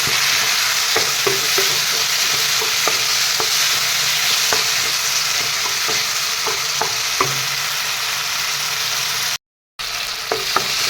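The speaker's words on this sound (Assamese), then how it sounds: "যেতিয়ালৈকে বিলাহীখিনি নৰম হৈ নাযায় তেতিয়ালৈকে এনেদৰে মই ভাজি ৰাখিম।" Tomatoes sizzle steadily in a hot pan for a fish curry while a spatula stirs and scrapes with sharp intermittent clicks. The sound drops out briefly near the end.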